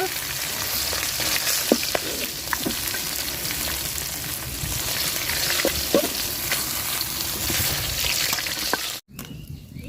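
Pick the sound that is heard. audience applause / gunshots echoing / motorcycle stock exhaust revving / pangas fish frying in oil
pangas fish frying in oil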